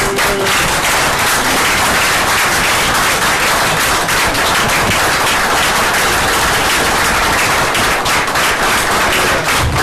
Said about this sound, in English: please give Dan a big round of applause